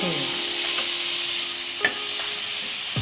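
Bottle gourd pieces tumble into tomato frying in a pan, a steady close sizzle broken by a few sharp scrapes and clinks of a spoon stirring.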